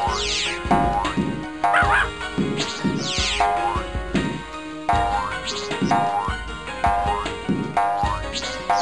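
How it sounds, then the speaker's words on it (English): Cartoonish dog barks and yips repeat in a steady rhythm over bouncy video game music and sound effects. "You'll hear Pep bark every time you get an extra life."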